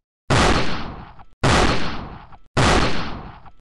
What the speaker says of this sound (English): Oh no, gunshots.